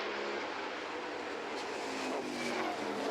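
V-8 Formula 5000 open-wheel race cars roar past on a circuit heading into turn one, a dense, steady engine wash with a rising whine near the end, loud and continuous without talk.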